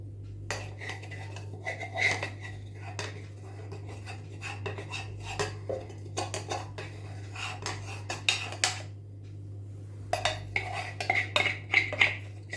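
Metal spoon scraping and tapping against a utensil to clear off simple pasta sauce, a run of short, close clinks and scrapes in uneven bursts over a steady low hum, with no talking.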